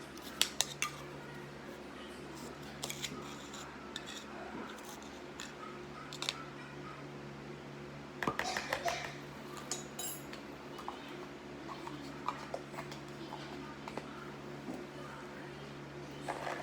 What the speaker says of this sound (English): And stir it again.